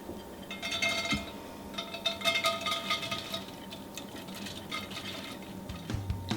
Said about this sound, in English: get rid of the excess water from the bowl and then pour it into the pot